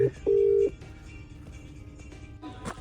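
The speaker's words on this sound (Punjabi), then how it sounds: "ਹੁਣ ਫੋਨ ਆ ਰਿਹਾ ਇਹਦਾ" A loud electronic phone tone, a short beep and then a longer steady one, trailing into a faint lingering tone over low background noise.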